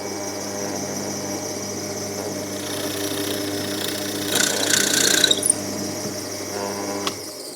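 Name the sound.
countersink cutter drilling wood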